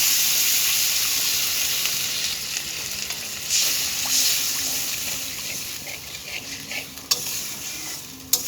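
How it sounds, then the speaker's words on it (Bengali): Hot oil sizzles and hisses loudly as water hits frying spices for egg curry, fading slightly over time, with occasional clinks of stirring. "এবার আমি পানিটা দিয়ে দেব।"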